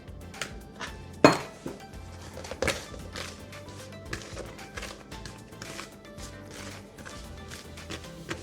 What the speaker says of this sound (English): I will mix it with the flour, okay, and we'll put it to the bowl and we'll mix it together.